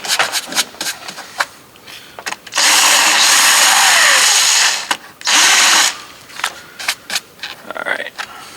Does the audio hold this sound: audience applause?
no